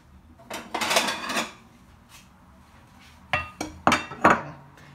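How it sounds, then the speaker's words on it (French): A plate set down on a kitchen counter while preparing kebab-filled brick pastry, several sharp ceramic clinks and clatters in two bursts, fairly close and with no talking. "Je vais mettre dans une assiette."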